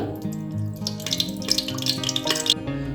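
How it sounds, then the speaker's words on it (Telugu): Cooking oil for a curry is poured into a pressure cooker on a lit stove, making close trickling and dripping sounds with a ringing, resonant tone over a few seconds. "ఇప్పుడు మనం ఆయిల్ వేసుకుందాం, మనకి కర్రీకి సరిపడా ఆయిల్"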